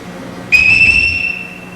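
A single shrill whistle blast, blown as a signal in a stage production of The Sound of Music, sounds suddenly and holds for about a second before fading, loud and close.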